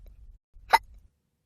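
A reader's voice imitates a hiccup during a children's read-aloud story, one short sharp 'hic' burst standing out alone between quiet low background sounds.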